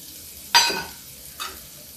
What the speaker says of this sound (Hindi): अभी डाल देते हैं प्याज।